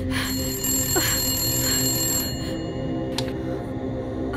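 A telephone rings with an incoming call, a bright trilling bell that sounds in bursts, close and clear over a faint steady background hum.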